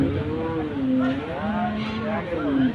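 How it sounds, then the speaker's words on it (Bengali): Australian-breed cattle at a busy cattle and buffalo market in Amraid, Gazipur, low drawn-out moos repeating close by over a constant murmur of market crowd noise. "দেখুন এটা অস্ট্রেলিয়ান জাতের গরু"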